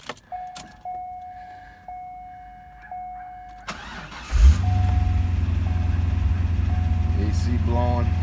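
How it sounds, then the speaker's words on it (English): Chevrolet Corvette C5 cold start: a few seconds of quiet ignition chimes and clicks, then the engine cranks, fires loudly and settles into a strong, steady idle. "Give her a cold start."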